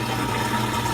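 Water rushing steadily through the drain pump of a GE washing machine as it empties its tub, a continuous close gurgling flow with no pauses.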